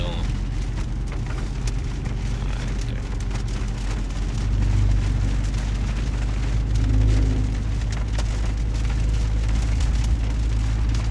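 Heavy rain pelting a car windshield on a rainy dealership lot while the wipers run, a dense constant hiss with low rumbling underneath and faster swells midway.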